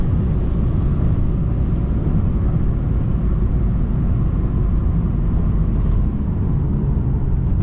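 A 2009 Lexus IS-F under full-throttle acceleration from speed, heard from inside as a loud, steady, dense engine roar and road rumble that holds constant throughout with no talk.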